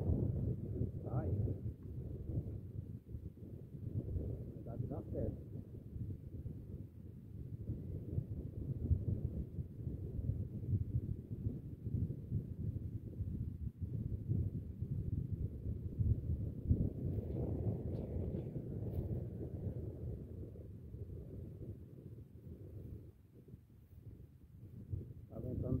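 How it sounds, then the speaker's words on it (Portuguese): Strong wind buffets a microphone outdoors during the replacement of a three-phase circuit breaker, making a continuous low, rumbling roar that swells and eases for the whole stretch. "Tá ventando bastante, fica mais complicado de acertar o olhar da chave"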